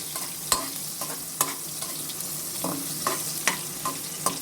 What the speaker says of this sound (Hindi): बस ये 20 से 30 सेकंड तक इसको सौते करेंगे